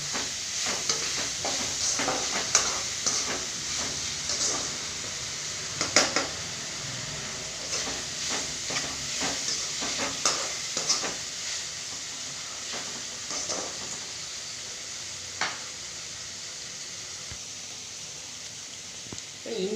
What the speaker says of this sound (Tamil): தக்காளி பழம் நல்லா வதங்கணும்